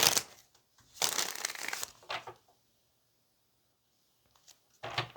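Tarot cards are shuffled in a few bursts of crisp riffling and rustling, close up, separated by stretches of near silence.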